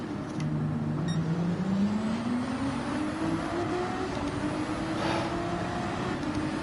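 A field of GT3 race cars, including Ferrari 458s, launches at the start of an online Gran Turismo 7 race, engines roaring close and rising steadily in pitch as they accelerate through the gears.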